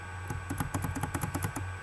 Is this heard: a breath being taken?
no